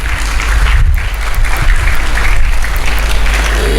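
Church congregation applauding together at St. Antony's Church, a dense, loud, steady wash of clapping that runs unbroken from start to finish with no voices above it.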